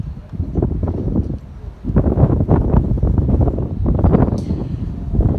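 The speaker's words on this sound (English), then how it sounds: "It was really windy, so even though I had it on the stand, it was a quite shaky frame" Low, rumbling wind buffeting the microphone outdoors at highland broadsword sparring, loud and continuous with gusty surges throughout.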